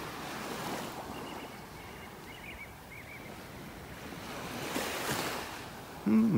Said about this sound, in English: So peaceful, just walking along, hearing the waves.